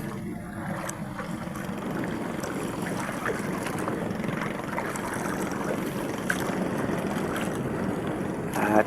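Strong wind and rising waves at sea, heard from a small boat late in the afternoon, a steady broadband roar of wind buffeting the microphone over churning water, continuous and close, with no talk.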